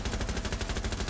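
Steady rapid automatic gunfire in Rainbow Six Siege, shots fired through a wall, a continuous close burst of evenly spaced reports.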